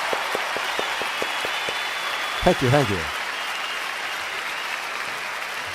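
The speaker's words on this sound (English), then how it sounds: "So a little round of applause" Sustained applause from a livestream audience, a dense wash of clapping throughout, with a brief spoken thanks partway through.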